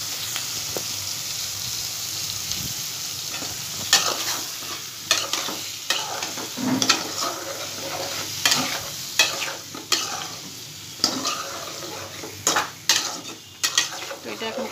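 Potatoes and pointed gourd sauté in a pan with cumin, coriander, turmeric and chili powder, a steady sizzle broken by repeated scraping stirs and clinks of a spoon against the pan, close and moderately loud.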